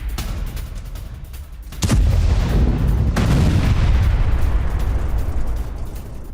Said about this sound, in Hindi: हमले के बाद हथियार डिपो में विस्फोट हो गया।